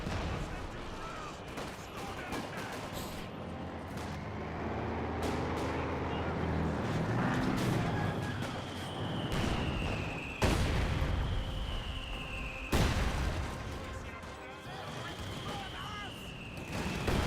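Gunfire and flamethrower combat from Company of Heroes 2, with Commonwealth engineers flaming Pioneers: dense continuous battle noise with repeated sharp shots and booms, a sustained roaring layer through the middle, and talk running over it.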